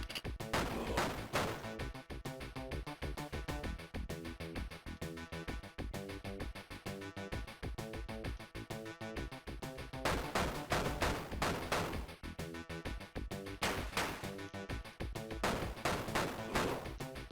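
Video game gunfire rattles in dense, rapid bursts throughout. Close, fast volleys of shots swell harder around the start and again in the second half.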